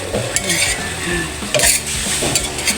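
Bamboo shoot adobo (adobong labong) cooking down in a pan, with steady close sizzling and bursts of stirring and utensil scrapes against the pan, broth reducing as it fries.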